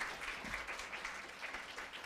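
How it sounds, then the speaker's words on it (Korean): Faint, steady applause from a lecture audience at a medical talk on whether psychosis can be prevented, thanking the professor; dense distant clapping without voices. "다시 한번 훌륭한 강의를 해주신 권준수 교수님께 감사의 박수를 드리겠습니다"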